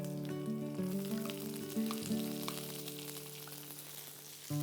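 Cumin, whole coriander and onion frying in hot oil in a kadai, with ginger and garlic cloves added, a steady soft sizzle and crackle that runs throughout at close range.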